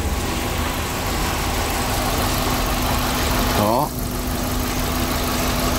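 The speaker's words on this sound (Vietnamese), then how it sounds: "Máy nổ siêu êm rồi." The 1.0-litre four-cylinder engine of a 2010 Kia Morning SLX automatic idles smoothly with a steady, even hum, and someone speaks one brief word over it.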